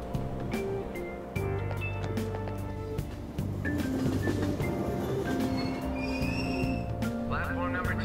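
Train ride in the video game Persona 5, with a steady low rumble of the moving car, tonal hum and chime-like cues, and a brief shift partway through.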